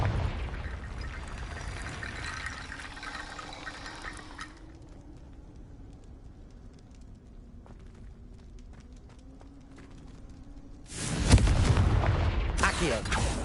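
A Confringo explosive spell from the Hogwarts Legacy game goes off near the end as a sudden loud burst with a crackling, roaring tail. Quieter game ambience comes before it.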